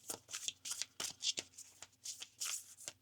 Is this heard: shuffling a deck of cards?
yes